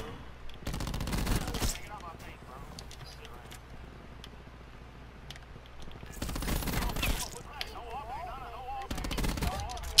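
Gunfire and sniper shots in the video game Black Ops 7: three dense bursts of loud shooting, early, midway and near the end, with a player talking over the quieter game sounds in between.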